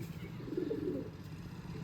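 A pigeon on a rooftop gives a brief low coo, faint and close, over a soft constant background hum.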